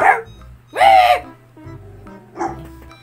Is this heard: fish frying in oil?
no